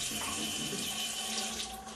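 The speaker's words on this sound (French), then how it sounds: "ou encore d'un robinet qui coupe l'eau lorsqu'on enlève nos mains." Water runs steadily from a sensor-operated tap in a bathroom, a continuous even splash and hiss filling the whole short stretch, close and fairly loud with no voices.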